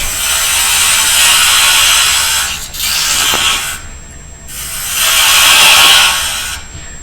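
A woodturning gouge cutting a small wooden box blank spinning on a lathe: two long, loud, close rasping shaving passes, each swelling and fading, separated by brief pauses with faint motor hum.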